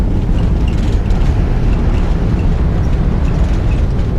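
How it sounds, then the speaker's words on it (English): Airbus A320 engines roaring in reverse thrust just after touchdown on the runway, a loud, steady broadband rush with no voices. "Touchdown. Reverse thrust."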